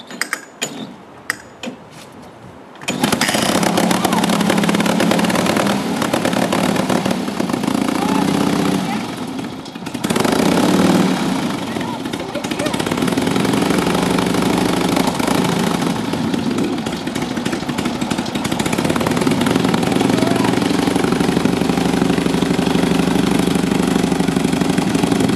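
A 1947 Indian Chief motorcycle engine starts after a few clicks and then runs steadily, a loud, close, rumbling idle with a brief dip and swell partway through.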